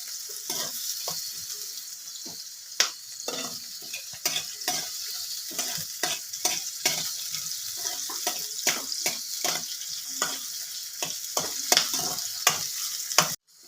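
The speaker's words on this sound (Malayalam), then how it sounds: "എണ്ണയ്ക്കകത്തിട്ട് നല്ല മൂപ്പിച്ച് കോരിയെടുക്കണം" Garlic fries in hot oil with a steady close sizzle, broken by repeated scraping stirs of a spoon against the pan.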